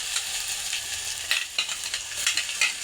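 Ground spice paste with cumin frying in a pan for buttermilk kadhi, a bright close sizzle with a few quick stirring scrapes, brief and unaccompanied by speech.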